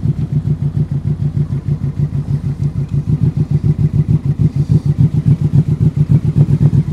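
Motorcycle engine idling close by with a steady, throbbing low pulse as the large bike is slowly pulled into a parking spot, the rumble holding level and firming slightly toward the end.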